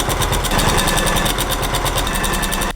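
A sewing machine fitted with a walking foot quilts straight lines, running in a rapid, steady rhythm of needle strokes close by, alone, then stopping abruptly at the end.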